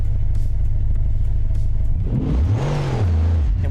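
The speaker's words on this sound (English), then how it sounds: "Engine is still running." A car engine in BeamNG keeps running with a loud steady low rumble, then swells into a rising and falling rev with a whining tone near the end, heard alone.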